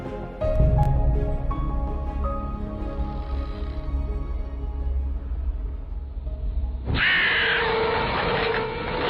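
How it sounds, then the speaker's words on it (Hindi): Crows cawing in a horror film scene as a flock returns to attack, the calls set against a dense movie soundtrack with a sharp, loud burst of noise near the end. "बहुत सारे कौवे वापस आकर रॉय पर हमला कर देते हैं"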